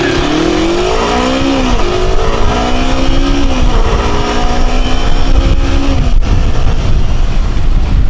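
A loud motorcycle engine revving up and down in rising and falling pitch, close by, then settling into a steady roar.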